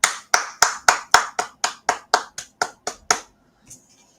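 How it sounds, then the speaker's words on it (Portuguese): About a dozen sharp hand claps land in a quick, even rhythm, then a short pause and one faint final clap. The claps are close and clear, with no other sound around them. "Palmas, viu? Palmas."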